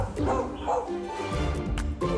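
Several dogs bark and yip at a dog boarding place, short repeated barks mixed with whimpers, heard under a person talking throughout.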